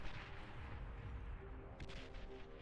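Artillery fire in the strategy video game Beyond All Reason rumbles as a dense, continuous barrage of low booms, steady and distant-sounding throughout.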